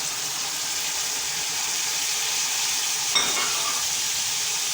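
Chicken frying in a pot with spices and tomato paste gives a steady, loud sizzle throughout, with one brief utensil clatter partway through and no voices.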